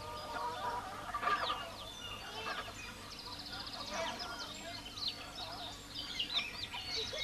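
Chickens cluck and squawk in a Kayan village on the Kalimantan Plateau of Borneo, several birds calling at once at moderate distance with light background noise.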